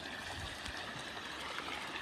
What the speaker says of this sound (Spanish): Están vertiendo las aguas negras